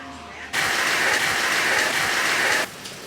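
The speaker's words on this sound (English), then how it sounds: "as you guys can see and hear, it started raining" Rain falls in Houston as a sudden loud, dense hiss of drops that switches on, holds steady for about two seconds and then stops abruptly.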